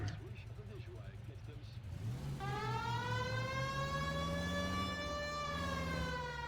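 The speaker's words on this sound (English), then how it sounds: "This seems like a good time for the siren, don't you think?" A police car siren in the L.A. Noire video game starts up after a moment of driving noise, rising into a loud, steady wail that holds to the end over the engine.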